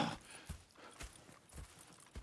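Horses clip-clop at a steady walking rhythm in the Red Dead Redemption 2 video game, the hoof beats moderately close and regular over a faint background hiss.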